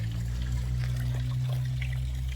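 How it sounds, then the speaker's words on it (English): Water trickles and pours steadily down through a small backyard nature pond, a continuous close gurgling flow over a low steady hum, with no talk. "then this one comes down, and then the water will flow down"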